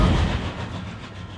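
A ghost train in World of Final Fantasy rumbles past in a brief, loud burst of rolling, clattering noise that fades slightly, with no voices.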